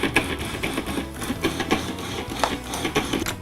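A food processor pulses pumpkin pie crust dough in a series of short, close bursts, each separated by a brief pause.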